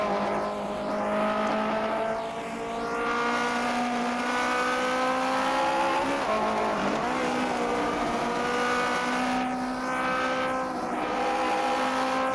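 1950s Formula 1 race cars lapping the Sachsenring in the rFactor 2 racing simulator, a loud continuous engine drone with shifting pitch as revs rise and fall, with brief tire squeal, heard alone without talk.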